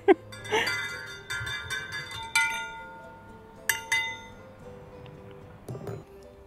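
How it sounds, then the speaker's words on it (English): Glass clinks several times, each strike leaving a bright, lingering ring that sustains and fades like a singing bowl. "Sounds like a singing bowl or something."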